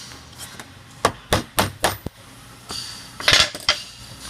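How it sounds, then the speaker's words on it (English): A hammer drives a screwdriver to spread apart the hinge on the flip lid of an ice cream cabinet: a series of sharp metallic taps, four evenly spaced, then a brief rattling cluster, close and fairly clear. "you'll have to spread that apart with your hammer and screwdriver"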